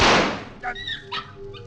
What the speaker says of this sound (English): Oh, a dog. Only a dog.